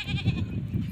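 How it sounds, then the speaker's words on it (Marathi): Goats kept at a farm bleat close by, a couple of quick loud nasal calls in succession, clear and without talk. "शेळ्या सांभाळायच्या बघा एवढ्या शेळ्या आहेत"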